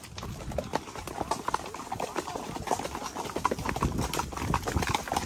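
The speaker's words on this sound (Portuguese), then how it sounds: "Montei no cavalo do dono da comitiva" Hooves of a saddle horse ridden on a group trail ride clip-clop in a steady, close rhythm, with faint voices and outdoor noise underneath.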